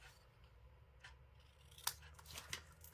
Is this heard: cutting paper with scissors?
yes